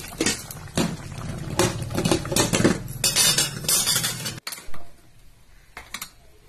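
A metal lid placed over a pot of pea and soybean masale bhat on the stove, a run of close clattering and clinking of cookware followed by a sharp cut and quieter rattles, no speech.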